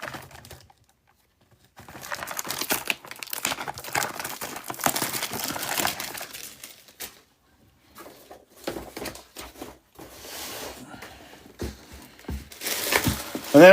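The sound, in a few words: ripping open Skybox Metal Spider-Man trading card packs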